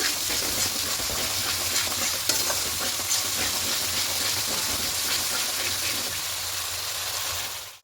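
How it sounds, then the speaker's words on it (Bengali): Cauliflower and potato curry sizzles loudly while it is stirred and sautéed in a pan, a dense, steady hiss of frying that stays close and continuous, with no talk. "এবার দিয়ে আরও একটু ভালো করে কষিয়ে নেব"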